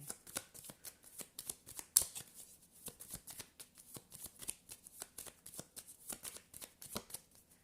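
Tarot cards are shuffled by hand in a quiet room, a rapid series of soft riffling slaps and flicks, close and fairly faint, with no voice over them.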